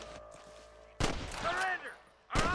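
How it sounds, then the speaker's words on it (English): Bursts of gunfire in the video game Red Dead Redemption, a sharp volley followed by a second burst after a short pause, with game voices shouting in between. "I can hear more gunshots"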